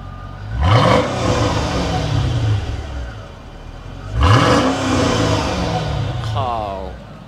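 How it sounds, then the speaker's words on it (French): A Mercedes SL 500 with a naturally aspirated V8 fires up from cold twice, each start a loud close crank and sharp rev flare that settles into a rumbling idle, with a brief whine near the end. "Le démarrage du V8. Ah, le cold start."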